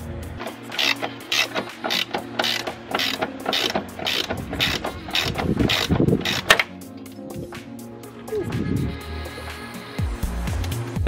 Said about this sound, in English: Then the anti-roll bar and the strut need to be unbolted.